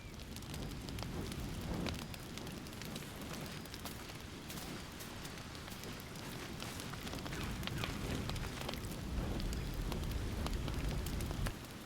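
A campfire crackles and pops in the fantasy role-playing game Baldur's Gate 3, a steady close hiss of burning with dense irregular snaps running throughout at an even level.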